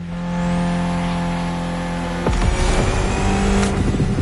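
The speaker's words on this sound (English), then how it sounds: "Mitsubishi gave us a nice inline four-cylinder with already 280 horsepower" A Mitsubishi inline four-cylinder car engine in the racing game The Crew Motorfest drones steadily at a constant pitch, then surges louder into a harsher, revving roar with sharper bursts toward the end, heard alone with no talking.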